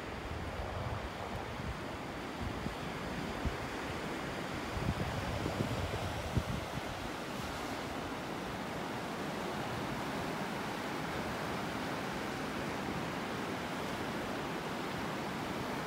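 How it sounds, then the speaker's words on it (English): Ocean waves wash onto the beach at Delnor-Wiggins Pass State Park in a continuous rushing surf with some wind noise, steady and moderately loud, with no voices. "Beautiful, listening to those waves."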